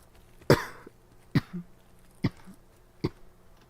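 Four sharp, loud coughs from a sick person, spaced roughly a second apart, each a harsh burst with a short rasp trailing after the first, close to the microphone and with no talk between them.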